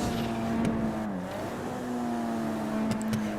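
Corvette engine in GTA 5 Online revving and pulling away, a steady fairly quiet motor drone with shifting pitch and a few brief sharp accents, no talk.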